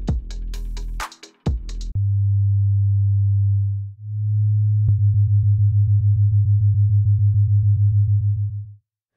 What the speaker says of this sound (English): Binaural beats necessitate the use of headphones, since each ear receives a separate tone.